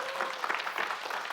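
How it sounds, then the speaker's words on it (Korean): Audience applause at a Korean government town-hall Q&A with the veterans affairs minister: a short, steady burst of many hands clapping, dense and even, with no voices over it. "여러분 큰 박수 한번 부탁드리겠습니다."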